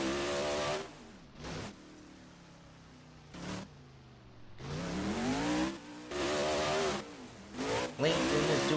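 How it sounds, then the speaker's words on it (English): Monster truck Blue Thunder revving hard through a freestyle run in a San Diego arena, loud engine bursts rising and falling in repeated surges with brief lulls between throttle blips, crowd and announcer noise faint underneath. "LinkedIn is doing a really good job driving this monster truck"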